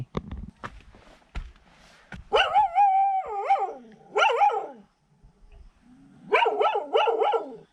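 A dog near Lake Batur in Bali lets out loud, drawn-out barks with a howling edge in three bursts, the last a quick run of yelps, after brief rustling and talk.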